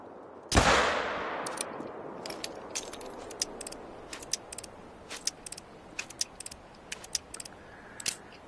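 Hunting rifle in The Hunter: Call of the Wild, a loud shot echoing into a long decay, followed by a run of small metallic clicks and clacks as the weapon is reloaded.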